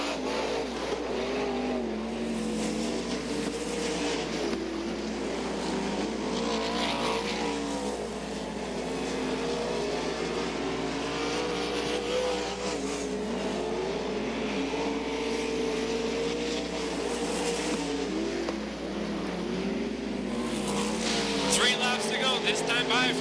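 Dirt track race cars roar around Gallatin Speedway in Belgrade, Montana, engines droning continuously at a steady distance, with a public-address announcer calling the race over the noise.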